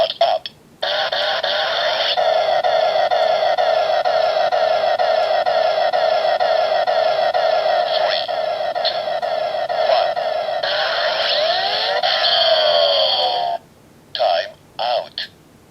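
A CSM Faiz Axel Watch toy sounds its start-up sequence: a few short beeps, then a long, loud electronic countdown jingle with warbling tones and chirps, ending in a couple of clipped bursts.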